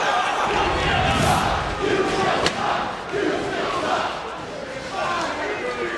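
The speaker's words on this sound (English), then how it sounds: "the crowd definitely has an opinion about how they feel." A wrestling crowd at a Ring of Honor tag team match chants and cheers, a dense roar of many voices that swells and falls in waves and fills the space throughout.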